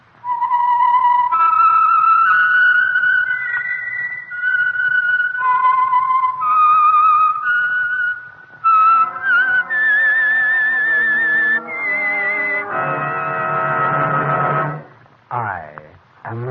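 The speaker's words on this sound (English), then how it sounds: "the signal to listen for is this whistle that identifies the Signal Oil program" Radio program whistle identifying the Signal Oil show: a clear, solo melodic whistled tune of sustained rising and falling notes, ending in a brief musical flourish.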